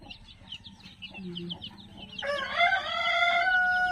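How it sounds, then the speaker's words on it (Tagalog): Brahma chickens cluck in short, close bursts before a rooster lets out a loud, drawn-out crow, with farmyard background noise underneath. "Tapos ito naman yung mga Brahma chicken breed."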